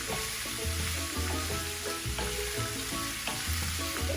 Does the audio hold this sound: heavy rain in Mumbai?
no